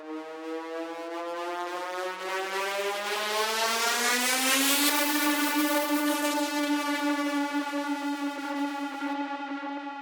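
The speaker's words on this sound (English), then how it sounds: "how I created this riser and pitch down effect" A riser and pitch-down effect made with clip envelope automation in Ableton Live: a buzzy harmonic synth tone glides upward over several seconds with a building noise wash, then settles into a steady sustained drone, moderately loud and alone.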